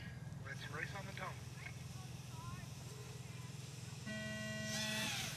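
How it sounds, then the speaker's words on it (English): Electronic start tone at a drone race, with three FPV quads launching through a gate; a steady flat beep sounds near the end over a constant motor hum, with voices talking earlier. "Let's race on the tone."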